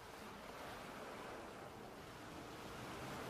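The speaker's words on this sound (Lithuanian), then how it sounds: "Iš ryta ir pasisveikina su jūros ošimu, su jūros šnarėjimu" Sea surf murmurs in a steady, soft wash of breaking waves along the shore, faint and unbroken for a few seconds with no voices.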